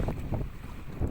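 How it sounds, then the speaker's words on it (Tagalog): Strong wind buffets the microphone aboard a tuna fishing boat at sea, with low rumbling gusts and waves thudding against the hull in short bursts. "Strong winds, big waves."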